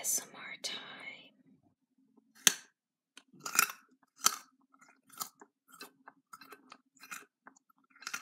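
Crisp close-up crunching and chewing of fruit and vegetables in a soft ASMR setting, a series of sharp separate bites spaced through quiet gaps, with faint whispering at the start.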